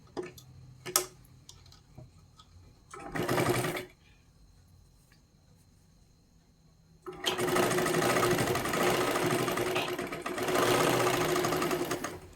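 A sewing machine stitches a katori blouse in short separate bursts, then a long steady run of rapid whirring stitching, close and clear, with small ticks and handling sounds between the runs.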